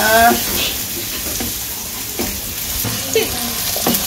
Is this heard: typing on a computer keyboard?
no